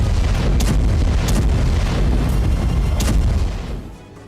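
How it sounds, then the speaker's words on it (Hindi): A loud explosion from a missile strike in news footage, with a large fireball rising several feet: a sustained rumbling boom with crackling bursts that fades out near the end, no voices. "जोरदार धमाका हुआ और कई फीट ऊपर तक आग का गुबार उठा"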